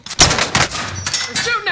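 Enemy gunfire in the video game Call of Duty: Warzone: several loud, close shots in quick bursts over a short stretch, with other game sounds layered underneath.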